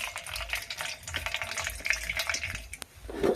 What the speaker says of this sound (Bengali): ডালটা ধুয়ে নিচ্ছি